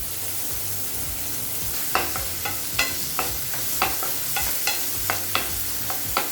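Vegetables for wheat adai dosa, including tomato, sizzle steadily in a pan while a spoon scrapes and stirs in a regular rhythm of about two strokes per second, close and clear with no talking.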